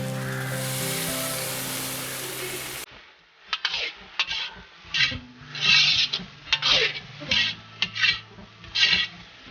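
Noodles being stir-fried with chicken, squid and prawns, a spatula scraping and tossing in uneven rasping bursts after a brief steady hiss, close and fairly loud with no talk.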